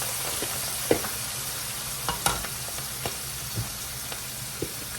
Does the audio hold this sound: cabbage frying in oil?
yes